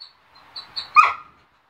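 A dog indoors whimpering with a few thin whines, then letting out one short sharp bark, wanting to come out, close and fairly loud with no talk.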